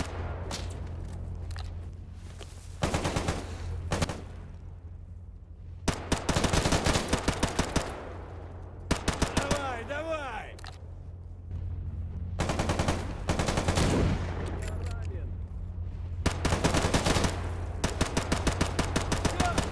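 Bursts of rifle and automatic gunfire from the shooter game S.T.A.L.K.E.R. GAMMA during a firefight at a hilltop tower and base, several loud volleys separated by short lulls over a steady low ambient hum.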